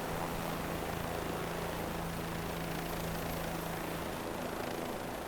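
A Bell 407 helicopter engine in Microsoft Flight Simulator 2020 runs as a steady, continuous whine with a droning hum, even and unchanging throughout, no talk.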